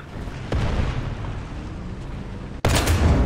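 Tank cannon fire in a video game aimed at a Panther tank, with a heavy boom at the start and another sharp, loud blast near the end over steady battlefield rumble.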